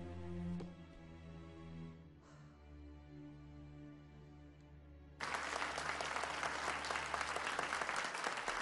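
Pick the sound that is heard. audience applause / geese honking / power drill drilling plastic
audience applause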